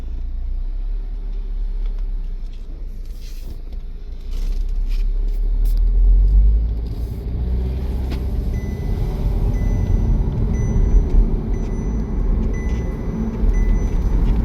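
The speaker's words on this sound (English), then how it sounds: "Let me drive the car for you guys." A 2010 Audi TT Convertible engine rumbles steadily while driving, with low road noise swelling midway and staying constant; no talking.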